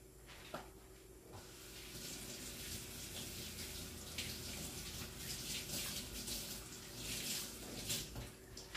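Kitchen tap water runs steadily over a small garden zucchini being rinsed, a soft continuous splashing hiss with faint handling noises, fairly quiet and close.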